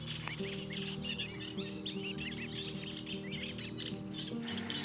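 Newly hatched swan cygnets make rapid, high, thin peeping calls, many overlapping, over a steady low hum at moderate volume.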